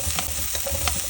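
Onions frying in a pan while being stirred, a steady close sizzle with soft scraping strokes of the stirring utensil, no voices.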